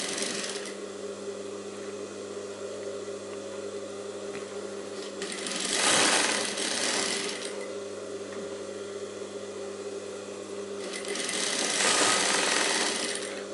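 A sewing machine stitches a high neck blouse, running a steady close whirring hum that swells into two louder, faster runs partway through and near the end, with no voices.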